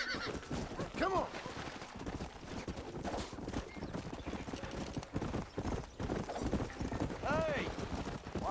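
In Red Dead Redemption, horses clip-clop steadily with hooves thudding at a steady rhythm, while two whinnies ring out, one early and one late, mixed with game voices talking over the scene.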